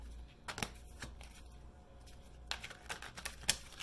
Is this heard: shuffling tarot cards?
yes